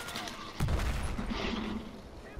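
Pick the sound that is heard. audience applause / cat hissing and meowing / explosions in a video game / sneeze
explosions in a video game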